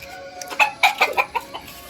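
Several chickens cluck in short, irregular bursts, fairly close, with a faint background hum.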